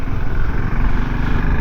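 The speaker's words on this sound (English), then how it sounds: "So it's a nice thumpy engine." Voge DSX650 adventure motorcycle from 2023, with a 650 cc single-cylinder engine and a 5-speed gearbox, running under way. A steady, dense low engine drone carries on without a break, with no talk over it.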